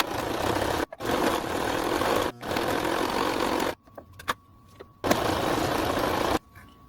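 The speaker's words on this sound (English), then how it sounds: "Now to sew it together." Sewing machine stitching fabric pieces together runs in loud, close bursts of rapid mechanical whirring, broken by short pauses and a quieter stretch of faint clicks and handling before it starts up again.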